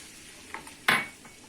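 Red pepper powder cooking in melted butter and oil in a pan, a sharp metal clink of spoon against pan over a faint sizzle, brief and close.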